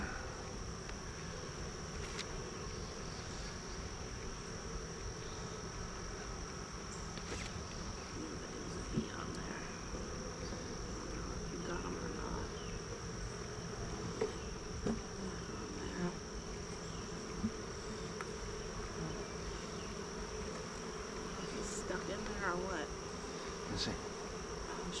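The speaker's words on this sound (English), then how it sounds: "I was trying to get the bee out of there." Bees buzz around a homestead beehive, a steady insect drone that fills the whole stretch at moderate level, with faint outdoor noises and a few small knocks mixed in.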